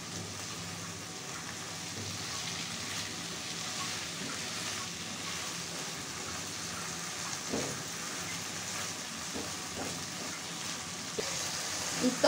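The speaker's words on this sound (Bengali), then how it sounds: "তো এভাবে আমি আলতো হাতে 2-1 মিনিট কষিয়ে দেব।" Small mola fish with spices are gently stirred in a frying pan, a faint, steady sizzle with occasional soft scrapes, quiet and continuous.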